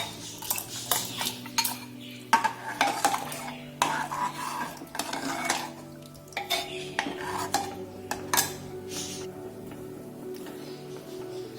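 Drumstick pieces dropped and stirred into a metal pot of sambar, giving scattered clanks, taps and scraping of utensils against the pot, close and irregular with a faint low hum behind.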